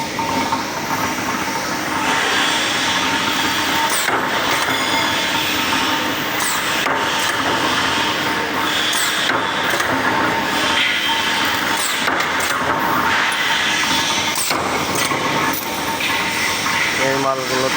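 Power press machines cutting metal parts in a workshop, a continuous loud mechanical clatter with repeated thumping strikes and rattles, voices talking over the din.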